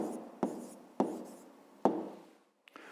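Pen on paper writing an answer to a fifth-grade maths exercise, three quiet separate strokes with scratchy tails and a tiny tap at the end, alone and close.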